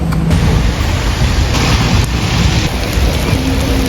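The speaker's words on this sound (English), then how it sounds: "it's actually starting to rain" Steady, heavy rain pours down continuously, a dense hiss of drops close by with no voices.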